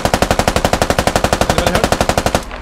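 A sustained burst of rapid, evenly spaced machine gun fire in the video game Squad, loud and close, with about two dozen shots before it cuts off abruptly.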